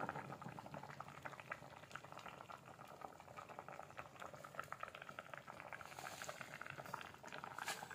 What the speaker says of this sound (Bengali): জলটা ভালো করে ফুটে গেছে